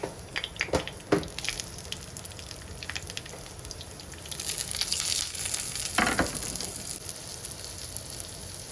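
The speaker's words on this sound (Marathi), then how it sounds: "पॅन ठेवलेलं आहे, त्याच्यात तेल टाकायचं, पत्ता टाकायचा थोडासा, हे प्रॉन्स टाकायचे." Prawns fry in a pan of shallow oil with a few leaves, giving a steady, close sizzle with a few sharp crackles and spatters.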